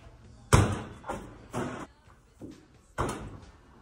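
A basketball repeatedly striking a backboard during shooting practice, giving several hollow thumping impacts a second or so apart, the first loudest, with quieter bounces between them.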